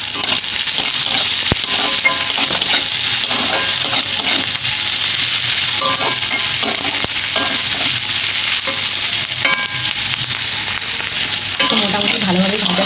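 Semolina being dry-roasted and stirred in a pan, a steady loud close sizzle and scrape with small clinks of the utensil throughout, no talking.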